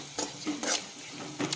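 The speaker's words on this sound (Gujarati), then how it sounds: "સરસ રીતે મિક્સ કરી લેશું" A spatula mixes leftover fried rice in a pan, producing three or four soft scraping strokes over a light sizzle, close and fairly quiet.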